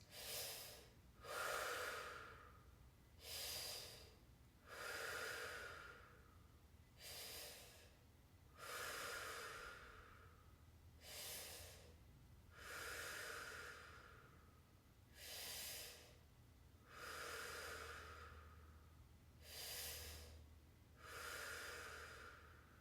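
Slow, deep breaths during a stretching exercise, about ten soft inhales and exhales in an even rhythm, close and quiet, with no voices.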